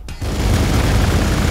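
Gunfire and explosive booms in the Warhammer 40k: Gladius strategy game, with a loud, dense roar of battle that starts abruptly and holds steady.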